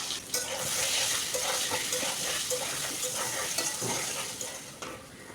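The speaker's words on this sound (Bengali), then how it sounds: "এবার কেটে রাখা আলুগুলোকে প্রথমে ভেজে নিতে হবে।" Cut potato pieces frying in white cooking oil in a wok, a busy sizzle with stirring scrapes and clatter, close and moderately loud throughout.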